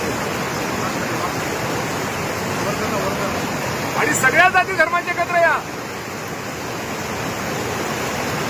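Floodwater rushes in a steady, unbroken roar that fills the whole scene. Someone speaks briefly in the middle over the water.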